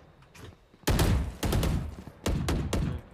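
Gunfire in the game Valorant comes in three loud, sharp bursts of rapid shots, each several shots long, with quieter gaps between them.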